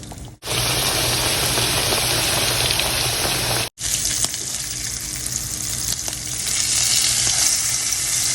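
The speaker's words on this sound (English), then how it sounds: "We're going to let these just fry just like this until they're nice and golden brown." Chicken croquettes fry in oil in a skillet, a loud, close, continuous sizzle broken by two short silent cuts, with no talking.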